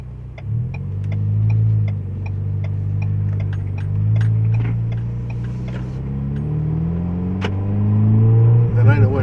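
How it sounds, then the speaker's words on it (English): A 2023 Ford Bronco Heritage with the 2.3L EcoBoost engine and a FlowMaster FlowFX muffler, heard while driving: a mellow, low engine and exhaust drone that rises and falls with acceleration, steady throughout with a few light clicks over it. "and I can hear the exhaust."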